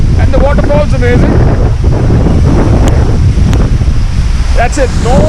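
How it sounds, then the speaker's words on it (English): A waterfall near Vashisht, Manali roars steadily as broadband rushing water close by, heavily buffeted by wind on the microphone, with people talking over it. "this is exactly the waterfall for which we've been trekking for last like 1 hour"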